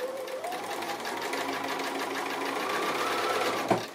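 A sewing machine stitching a straight line through fabric for a pinwheel pin cushion, a steady close mechanical whir with rapid needle ticking that ends in a small clunk.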